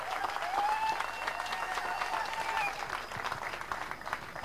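Guests at a wedding ceremony under the chuppah applaud, producing a sustained, fairly even patter of many hands clapping, with faint melodic tones sounding underneath.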